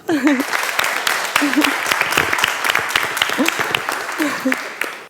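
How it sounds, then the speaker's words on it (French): Audience applause at a French youth event, steady clapping of a crowd with scattered distinct claps, with a voice speaking intermittently over it. "On peut l'applaudir bien fort."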